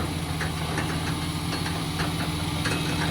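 Tractor engine running before mowing haylage with a Fastrac and a mower, a steady loud knocking idle with continuous rumble and no other sounds.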